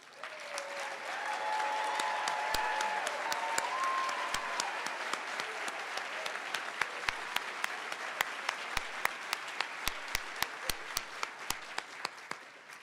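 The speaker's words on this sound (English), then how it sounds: "Would our graduating students please stand and let's give them an applause." An audience at a Montana State University nursing pinning ceremony applauds graduating students with sustained, dense clapping that swells and then thins into scattered individual claps by the end.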